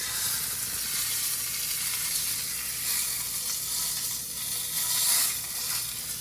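Trout sizzling in a hot skillet outdoors by a mountain lake, a steady bright hiss of frying fat that swells slightly near the end, with no talking.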